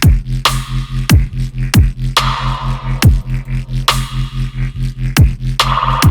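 A heavy, loud dubstep synth bass made in Ableton Live's Operator, slightly driven through a saturator, pulses with a slow, wobbling LFO modulation, broken by sharp rhythmic hits and brief bright sweeps.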